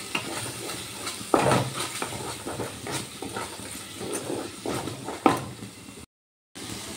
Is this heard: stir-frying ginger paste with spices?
yes